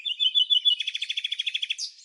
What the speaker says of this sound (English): Let's meet the fierce black francolin.